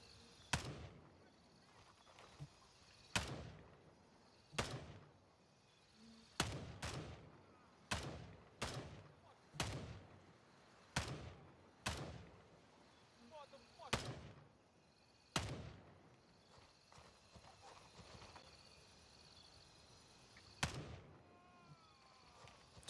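Gunshots ring out in a tactical shooter set in a jungle village, about a dozen sharp, single reports spaced irregularly over the stretch, each followed by a short echoing decay against quiet ambience.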